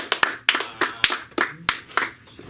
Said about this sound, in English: Clap if you feel like it